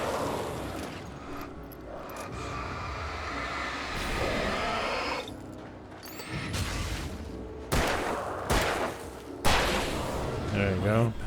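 Gunfire in the Alan Wake Remastered horror game, several sharp, loud shots breaking through a rumbling, tense background, with someone talking between and over the blasts.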